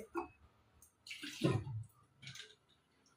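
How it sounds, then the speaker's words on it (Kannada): Water is poured in short bursts into a cooking pot of masala for a dill-leaf dish and lentil curry, as a few splashy gurgles close by that fade in between. "ಇನ್ನೊಂದು ಸ್ವಲ್ಪ ನೀರು ಹಾಕ್ಬೋದು ಅಷ್ಟೇ"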